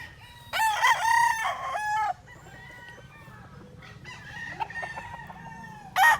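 A fighting rooster for sale crows loudly nearby, followed by quieter clucking and a second crow starting at the end, over faint background hum.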